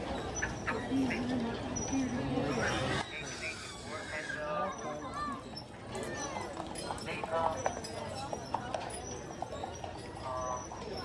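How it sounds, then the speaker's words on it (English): Horse hooves clip-clopping on pavement in a Michigan town street amid outdoor bustle, with people talking and birds chirping in the background. "Horses turning left."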